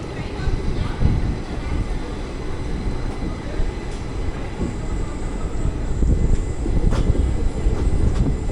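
Steady, low rumble of the Malgudi Express train departing Bengaluru station, rising slightly in loudness toward the end, with faint rattles and no voices.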